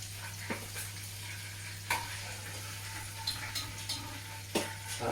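Southern fried chicken pieces sizzle quietly in a deep fat fryer, a soft steady crackle under a constant low hum, with a few sharp clinks and taps from utensils or trays scattered through.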